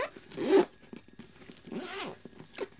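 A zipper on the pocket of a sewn BeHip 2.0 handbag is pulled in a few quick rasping strokes, the loudest burst early on and softer zips following, close up with no talk.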